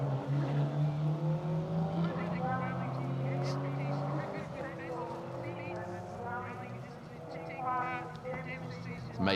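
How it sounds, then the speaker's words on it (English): A modern N10 Subaru Impreza WRX STI rally car passes on a historic rally festival stage, its engine note rising and falling as it goes by, heard under continuous commentary from someone speaking throughout. "Graham and Connor Sturrock in the more modern N10 Impreza WRX STI."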